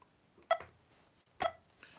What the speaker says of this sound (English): when you're tapping your toe to that beep on that metronome